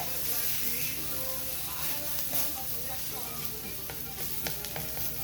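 Onions sizzle steadily on a hot grill for carne asada tortas, a dense crackling hiss with scattered sharper pops, close and continuous with no talk.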